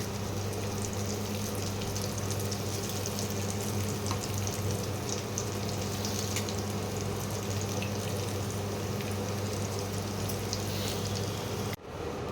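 A steady, continuous sizzle of dhoka lentil cakes frying in a pan until reddish-brown, with a low hum underneath and no voices, cutting off abruptly near the end.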